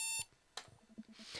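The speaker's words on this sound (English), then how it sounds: "I jolt awake to the sound of my alarm" A beeping alarm clock in the Dream Daddy dating simulator sounds loud and tonal at the start, then cuts off and leaves softer clicks and faint short tones.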